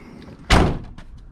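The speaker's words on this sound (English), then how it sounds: "if we go over here and close the door without hitting the table" A single door swings shut with a sharp, close thud, brief and loud, followed by a faint rattle as it settles against its seal.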